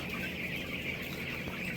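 A flock of 13-day-old broiler chickens in a poultry house, continuous soft cheeping and clucking spread across many birds, faint and steady with no talk.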